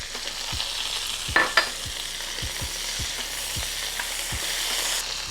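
Frozen okra hitting a hot skillet with browned sausage, a steady loud sizzle with repeated soft thumps of a spoon stirring in an even rhythm, no talking.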